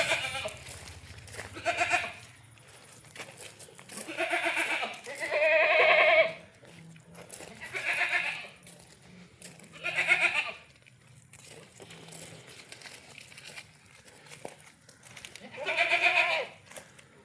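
Beetal goat, a good-quality milking doe, bleating repeatedly in loud, drawn-out calls at irregular intervals, close by, with faint background noise between calls.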